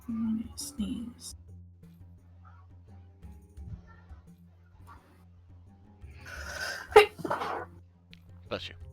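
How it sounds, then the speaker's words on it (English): A single loud, close sneeze bursts out during an online tabletop role-playing game session, following soft murmurs and small noises. "I'm gonna sneeze."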